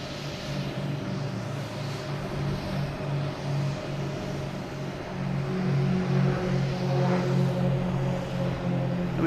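A Cape Air propeller plane departing Boston Logan for Lebanon drones with steady low propeller tones, and the engine noise swells louder partway through as it powers up; no one talks.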